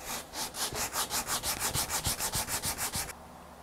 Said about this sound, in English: We'll take this sanding block with the 80 grit on it.